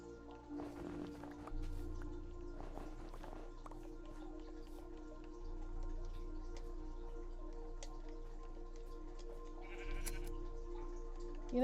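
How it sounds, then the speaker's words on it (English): A sheep in the Minecraft video game bleats several times, quiet and somewhat distant, over a faint steady background with soft ticking. "there's a lovely sheep over in that direction that is same color as you"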